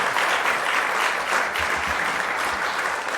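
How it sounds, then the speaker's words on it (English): A keynote audience at a National Bar Association HBCU event breaks into sustained applause, a full, even wash of clapping that holds loud and steady for the whole stretch with no speech. "Now that's something to clap about."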